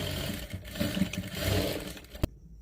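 A sewing machine runs in short, uneven bursts while stitching a crop top, a soft, close whirr with a sharp click near the end before it falls quiet.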